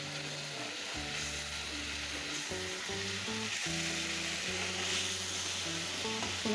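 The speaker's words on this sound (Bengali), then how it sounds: "মশলা কষানো শেষের সাথে অ্যাড করে দিলাম ইলিশ মাছের পেটি।" Hilsa fish belly pieces fry in a thick spice masala, giving a steady close sizzle with low scraping and clattering that comes and goes throughout, and no voices.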